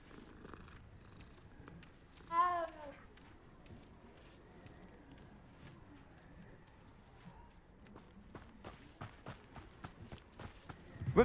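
A cat in the Hogwarts Legacy video game lets out one short meow close by amid quiet game ambience, followed by a run of light footstep-like clicks.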